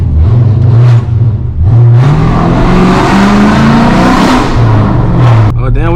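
A V6 car with a catless exhaust revs loudly and close by, its engine note rising and falling through several throttle blips over a steady rumble, with a voice briefly heard beneath.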